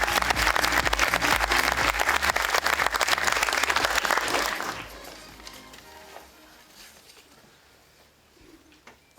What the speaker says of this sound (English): Please give a big round of applause, Stephen Loquet.